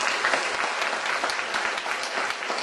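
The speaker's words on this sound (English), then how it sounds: "If we could get a round of applause for the panel." An audience applauds a health reform panel, a dense, steady burst of clapping from a crowd that continues throughout without any talk.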